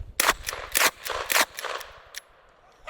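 A pirate-style pistol slam-firing .380 rounds: four sharp, loud reports in quick succession within about a second and a half, then a fainter fifth shot, outdoors with no talking.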